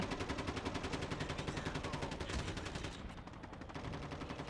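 Call of Duty Mobile gunfire: a continuous rapid machine-gun stream with evenly spaced shots, fairly quiet and steady, easing slightly near the end while the firing goes on.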